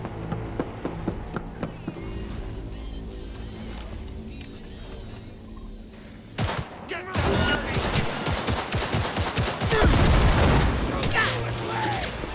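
Bursts of gunfire in the video game Cyberpunk 2077, with rapid shots and booms growing dense and loud in the second half, mixed with game music and a talking voice.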